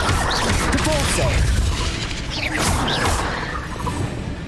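A Depulso spell cast in Hogwarts Legacy gives loud magical whooshes and booming impacts in quick succession amid continuous combat noise, with game voices heard during the fight.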